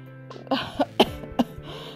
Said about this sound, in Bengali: কাশিটা কিছুতেই কমছে না কেন বল দেখি।